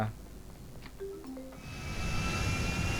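A plane's engine drones steadily in GTA V, rising to a louder, fuller roar about halfway through, with a few short tonal blips over the hum and no talking.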